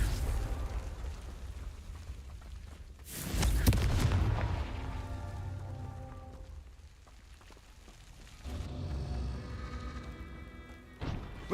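Confringo blasting spell explosions in Hogwarts Legacy: a loud, booming blast around the middle followed by a fading rumble, then a second burst and a sharp pop near the end, with no talking.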